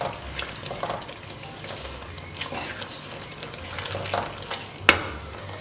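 Chicken korma masala is stirred in a pan, a soft sizzle and gentle scraping continuing steadily beneath a woman's speech, with a sharp clink of the spoon near the end.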